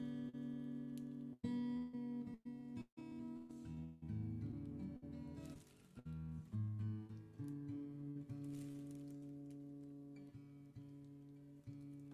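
A musician tuning an instrument in a bathtub-session setting: sustained, shifting pitched tones with brief plucks and pauses, rising and settling, fairly loud with no talking.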